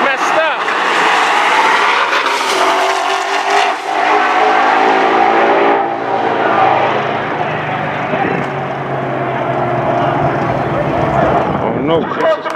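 A Mustang and an AMX Javelin line up for a drag race, their engines revving and roaring loudly with strong rising and falling tones, while people talk and shout over the noise.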